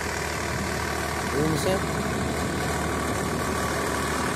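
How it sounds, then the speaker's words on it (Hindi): Swaraj 855 FE tractor with a rotavator working a field after wheat sowing, its engine giving a steady continuous drone throughout, with someone speaking over it. "ये देखो भाइयों कितने रिलैक्स मूड में चल रहा है ट्रैक्टर"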